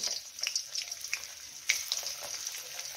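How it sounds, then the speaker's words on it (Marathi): Ginger and garlic crackle and sizzle as they hit hot oil in a pan for fried rice, a steady spitting hiss with sharp pops scattered throughout, close and fairly quiet. "तर आपल्या इथं तेल गरम होत आलेलं आहे, यामध्ये टाकूया आलं लसूण।"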